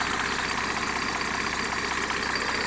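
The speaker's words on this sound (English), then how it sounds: "180 odd brake horsepower turbo diesel, 6-cylinder straight." Mercedes W210 E300 saloon's straight six-cylinder turbo diesel, around 180 horsepower, idling steadily with a dense, even clatter, close and constant with no talk.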